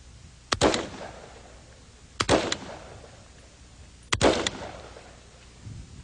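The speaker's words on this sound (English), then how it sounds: "This too is a hunting rifle. Again, one pull of the trigger," A semi-automatic hunting rifle fires three separate single shots about two seconds apart, each a sharp loud crack with a short echoing tail.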